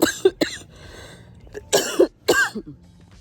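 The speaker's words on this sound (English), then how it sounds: "I'm starting to cough again" Several harsh coughs in short bursts with brief pauses between, close and fairly loud, ending with a throat-clearing cough.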